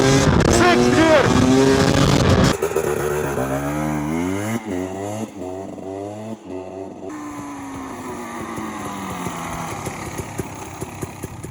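A KTM EXC 300 two-stroke 300cc motorcycle engine roars loudly and close, then revs in repeated rising and falling pitch sweeps as it runs through the gears at speed.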